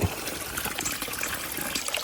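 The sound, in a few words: spring water trickling from underground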